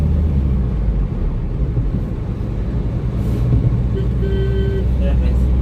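A Hyundai Verna car cruises smoothly along a road, its steady low engine and tyre rumble heard from inside the cabin while someone talks over it.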